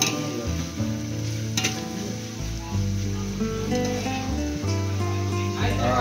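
Onions fry in a pan for aloo dum, giving a steady sizzle with stirring under background music throughout.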